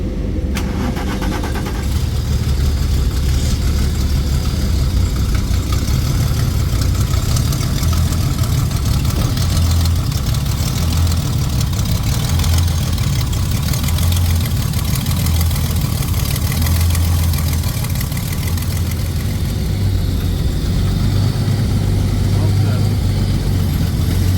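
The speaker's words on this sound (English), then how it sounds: "Frank, start the engine." A car engine cranks and catches, then settles into a steady, loud idle close by that runs on for a long stretch.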